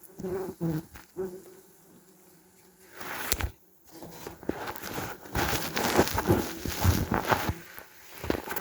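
German wasps swarm at a large nest, a busy insect buzz running throughout with fluctuating intensity, punctuated by rustling and scraping handling noises and a brief loud burst near the middle.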